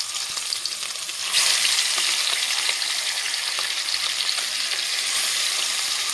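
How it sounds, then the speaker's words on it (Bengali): Folui fish frying in hot oil in a kadai gives a steady broadband sizzle that jumps louder after about a second and holds there without pause. "মাছটাকে সুন্দর করে লাল করে ভেজে নেব।"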